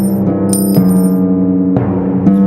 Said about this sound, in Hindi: खाना खाने के बाद वो दरिंदा अपने सोने के सिक्के गिनने लगा।